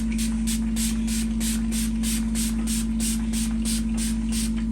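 K&N filter oil sprayed onto a reusable cabin air filter, a steady close hiss in short regular pulses over a constant low hum, with no talk.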